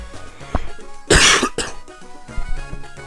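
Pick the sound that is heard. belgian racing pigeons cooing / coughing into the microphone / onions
coughing into the microphone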